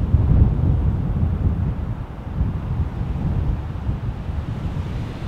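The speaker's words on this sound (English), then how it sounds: "But the wind, it wasn't very far off. And not only had it kicked up, it brought snow with it." Strong wind gusting beside a road during a snowfall, a loud steady roar of rushing air with buffeting across the microphone throughout, no voices.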